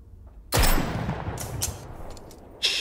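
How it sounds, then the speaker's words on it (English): A single loud gunshot from the video game Starsiege Deadzone bursts in, followed by a sustained rumbling echo and a few sharp metallic clicks, ending with another sudden blast. "that sounds like a real gun"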